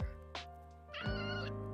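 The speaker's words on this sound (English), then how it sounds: "You can enjoy the little cat meows as acoustic sounds in the background" A cat lets out two short meows close by, the second longer and rising, over a quiet hum.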